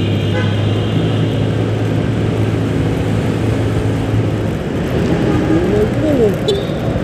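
Steady road traffic noise, with cars, a truck and a Honda Click 125 scooter at a green stoplight, rumbles continuously and loud, with brief higher tones near the end that may be horn toots.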